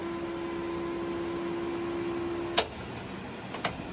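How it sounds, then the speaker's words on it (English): Electric fuel pump running in a Foxbody Mustang, a steady faint hum with a tonal whine that cuts off abruptly, followed by a couple of sharp clicks. "This is the fuel pump,"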